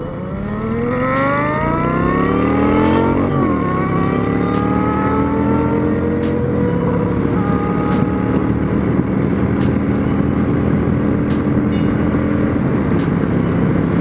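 A Honda Shadow 750 motorcycle accelerates alongside sport bikes. Loud engine tones climb steeply, drop at a gear shift, then settle into a sustained roar at speed, with no talking.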